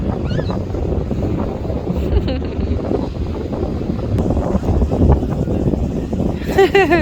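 Strong wind at a lake buffets the microphone in a steady, heavy rumble throughout, with a faint bird call near the end and no clear speech.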